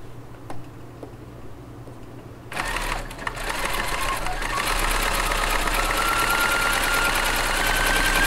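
After a quiet start, a sewing machine starts up stitching a quilt seam, running steadily and close with a rapid mechanical whir and tick until the end.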